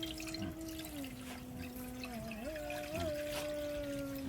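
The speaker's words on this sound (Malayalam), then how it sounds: "കലക്കിയ വെള്ളം ഒഴുക്കി." Dissolved arrowroot water is poured into a pan for halwa, giving a gentle continuous trickle and drip close by, with a steady tonal hum running underneath.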